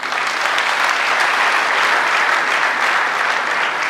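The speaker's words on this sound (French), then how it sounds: "Sous vos applaudissements, s'il vous plaît." Sustained audience applause at a conference in a lecture hall, a dense steady wash of many hands clapping throughout at even loudness, with no voices standing out.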